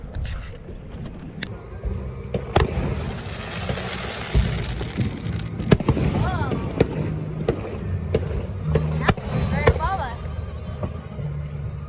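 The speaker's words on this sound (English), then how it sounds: "let's watch these fireworks." Fireworks going off outdoors during a fishing trip, irregular booms and pops with a few whistling rising shells, moderately distant, while people talk and react in the background amid light wind.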